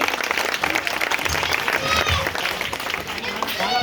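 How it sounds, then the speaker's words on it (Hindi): A crowd claps and murmurs at an Ambedkar Jayanti gathering in Jahangir Puri, a dense, continuous wash of applause with voices mixed in throughout. "जोरदार तालियों से स्वागत करेंगे।"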